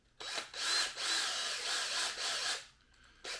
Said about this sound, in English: we're going to chuck this bad boy up in the drill, grab our die plane, and just zing it